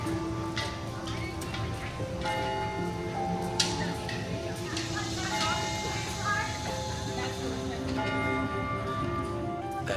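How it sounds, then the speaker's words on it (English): A historic 18th-century town bell rings out in Colonial Williamsburg, its tones sounding over a steady wash of outdoor ambience, with repeated resonant strikes at moderate distance across the whole span. "That bell you just heard was the exact same bell the colonials would have heard in the 18th century."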